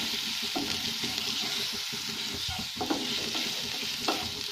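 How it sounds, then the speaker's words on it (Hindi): Ginger, garlic and green chili paste sautéing in a pan while it is made into Mumbai-style batata vada. A dense, continuous sizzle runs throughout, with light stirring scrapes now and then. It is close and steady and nobody talks. "यहाँ पे मैंने अदरक लहसुन और हरी मिर्च का पेस्ट बना के इसमें डाल दिया और इसे थोड़ा सा 1 मिनट तक भून लेंगे।"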